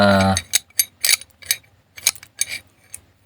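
A ratchet wrench loosening the negative terminal on a car battery, with a run of about ten sharp, evenly spaced clicking strokes close by, following a brief burst of speech at the start.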